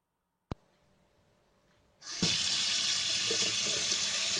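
Tap water runs steadily through a water-saving faucet aerator after a sharp click, a loud, close, even hiss that continues without pause until the end.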